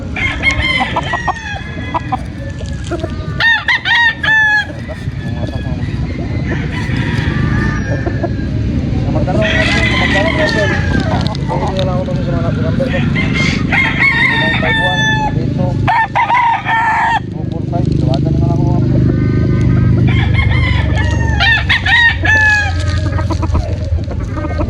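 Gamefowl roosters crow repeatedly, several birds overlapping near and farther off, with clucking between calls and someone talking throughout.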